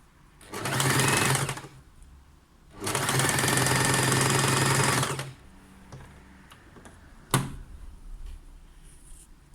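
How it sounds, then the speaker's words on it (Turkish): A sewing machine set to zigzag stitch sews elastic onto a cotton undershirt in two loud, fast-running bursts, followed by quieter fabric handling and a sharp click. "Evet zikzak ayarında aldığımız dikiş ayarında atletimizin lastiğini dikiyoruz."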